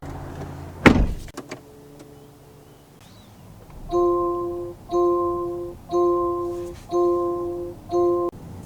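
A 2022 Land Rover Defender X-Dynamic HSE two-door: a sharp door-latch clunk opens the sequence, then a few small clicks follow, and finally a row of five evenly spaced, identical electronic chime tones rings out.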